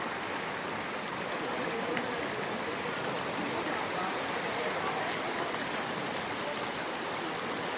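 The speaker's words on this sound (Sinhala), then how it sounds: "ඒ ඇන්ගල් එකට විදින වතුර ටික එකතු වෙලා මෙන්න මේ වගේ අපූර්ව ස්පයිරල් එකක් නිර්මාණය වෙලා වතුර වැටෙන්න ගන්නවා" Water from sixteen angled nozzles spirals down through the Rain Oculus at Marina Bay, Singapore, a dense, steady rushing roar like a waterfall, loud and continuous without breaks.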